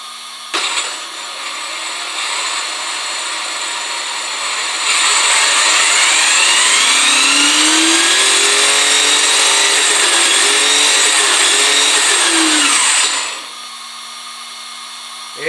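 A modified MCD R-Snake V16 Pro RC car with a new motor whines loudly and steadily for about twelve seconds, its pitch rising and falling as it runs on a track, with no talk over it.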